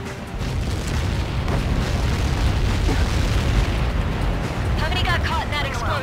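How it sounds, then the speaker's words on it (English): A huge explosion in the video game Ace Combat Skies Unknown rolls out as a loud, sustained, rumbling roar that fills the whole stretch without a break. "How many got caught in that explosion?"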